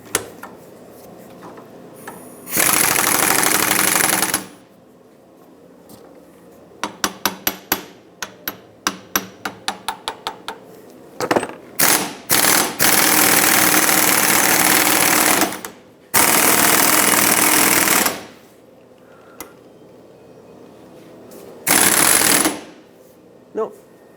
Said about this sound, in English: the ball joint pressed the stud out the bottom, broke the ball joint